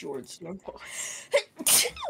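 A big, loud human sneeze bursts out near the end, sharp and forceful, between stretches of casual close-up talk from the same person.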